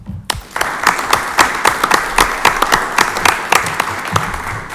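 Audience at a school board of education meeting gives a round of congratulatory applause, with dense, steady clapping from a seated crowd that starts abruptly and holds at a fairly loud level, with no talk over it.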